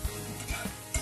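A spiced mixture with turmeric, coriander powder, chili powder and garam masala stirred in a pan for a Mughlai paratha filling, three soft knocks of a spoon against the pan over a faint sizzle, close and quiet.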